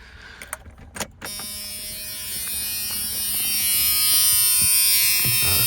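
A 1995 Dodge Dakota's warning buzzer starts after a few clicks and key jingles, then drones on as a harsh, steady electric buzz that grows slightly louder and continues unbroken.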